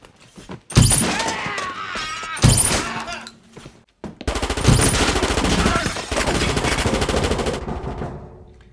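Rapid gunfire from a shootout scene in No Country for Old Men, loud bursts in two short volleys followed by a sustained stretch of continuous automatic fire with dense cracks, ending abruptly.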